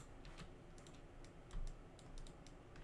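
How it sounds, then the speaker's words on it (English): Typing on a computer keyboard during a 3D modeling session: quick, faint key clicks come in irregular bursts over a low room hiss, with no talk. "Hit 1 on the keyboard."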